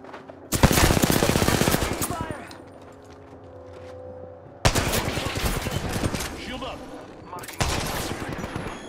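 Heavy bursts of rapid gunfire from an Apex Legends firefight, loud and close in three clusters, with a quieter gap of background game noise between them and a voice talking over parts of it.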